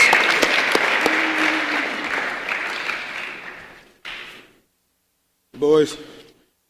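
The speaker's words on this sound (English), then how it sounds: "Please, everybody, give a round of applause to not only all the candidates" Applause from a crowd at an Arkansas Boys State party convention fills the first four seconds, then fades out, followed by a brief burst of clapping and a short noise.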